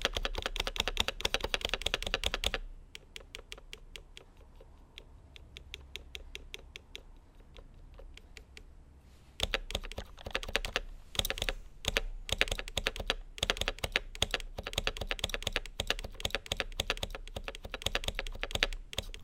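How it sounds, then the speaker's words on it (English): Typing on a Happy Hacking Professional 2 keyboard with a rattly, loud spacebar: rapid, close keystroke clatter in bursts, a quieter sparse stretch of taps in the middle, then dense fast typing again. "And then the spacebar was just rattly."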